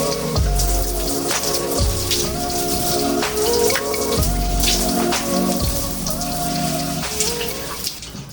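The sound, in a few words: water rinsing conditioner out of curly hair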